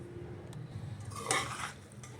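Green peas pulao being stirred in a pressure cooker, a few soft scrapes and clinks of a ladle against the metal pot, close and fairly quiet, with one brief louder scrape.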